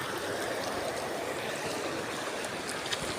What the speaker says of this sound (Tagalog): Dito kami sa ilog ngayon.